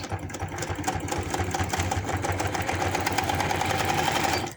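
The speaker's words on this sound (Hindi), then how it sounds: "इस तरह से इस सिलाई के साथ से हम इसकी सिलाई लगाते जाएंगे" Close, loud sewing machine stitching a seam on a boy's pajama pocket, a rapid rhythmic motor whir running continuously before stopping abruptly, with no voices.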